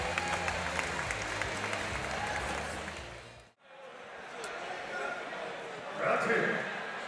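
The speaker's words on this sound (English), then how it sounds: "They cheer him on at the end of the first." A crowd at a Muay Thai event applauds and cheers at the end of a round, a steady roar that cuts off abruptly midway, followed by quieter hall ambience and a brief swell of cheering.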